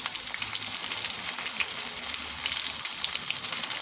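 A flour-coated sea bass fillet fries in a pan, giving a dense, steady sizzle and crackle of hot oil that stays close and even throughout, with no talk over it.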